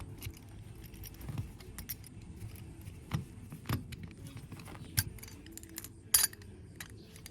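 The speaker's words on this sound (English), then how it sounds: "we're just going to throw our screws in" Metal screws are tossed into a container during a Tecumseh HM80 carburetor replacement, giving faint, scattered clinks and light jingling taps close by over a low background hum.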